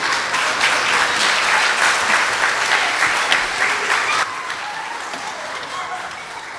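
An audience at a community diversity celebration gives a round of applause, thick and lively clapping that drops to a quieter, thinner patter in the last couple of seconds, with faint voices mixed in.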